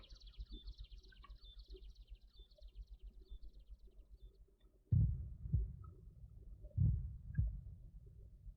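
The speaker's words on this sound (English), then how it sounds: "Very loud birds." Loud birds chirp in a game jam video game, a steady stream of high, busy calls over a low rumbling pulse, then fading as heavy thuds land twice.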